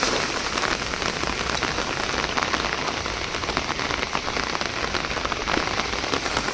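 Heavy rain pouring down at a fishing spot, a loud, dense and unbroken hiss of drops hitting surfaces, steady from start to finish.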